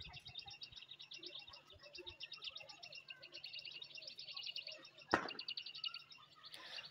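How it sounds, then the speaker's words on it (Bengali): Small birds chirp in quick, repeated bursts, faint and somewhat distant, with a dove's low cooing beneath and a sudden nearby bump partway through. "পাখির আওয়াজগুলো দেখেছো, শুনতে বেশ ভালো লাগে।"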